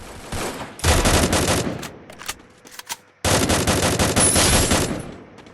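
Automatic gunfire from a shooting video game rattles in two long, loud rapid bursts separated by a quieter pause with scattered shots.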